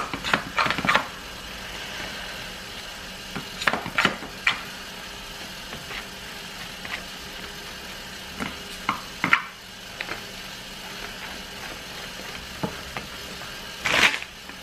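Butter melting in a pan on the stove gives a soft, steady sizzle, close and fairly quiet, broken by occasional clicks and scrapes of a utensil and a sharp knock near the end.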